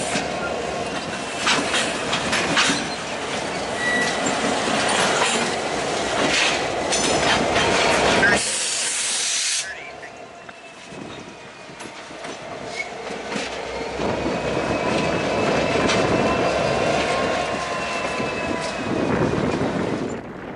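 A CP GP20C locomotive rumbles past with steady clickety-clack of wheels and rail noise, loud and close throughout, with a brief squeal of wheels midway and continuous rolling clatter of cars.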